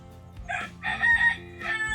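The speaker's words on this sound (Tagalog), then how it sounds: "may manok na naman." A rooster crows in a few short bursts, fairly close, with rustling and faint background noise underneath.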